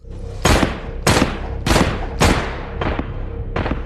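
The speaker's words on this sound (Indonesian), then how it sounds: "berhasil menembak Asep tanpa memberinya kesempatan untuk bertarung" Six sharp, booming gunshots from the film Message Man fire one after another at a roughly steady pace, each with a short ringing tail.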